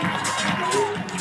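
Crowd cheering and clapping at a Babe Ruth All Stars opening ceremony for youth baseball teams, a broad wash of applause and shouts, with a voice talking over it.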